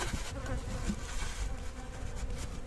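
Dense, steady buzzing of many honey bees close by at a hive during autumn apiary work, continuous throughout, with a low rumbling hum beneath and no talking.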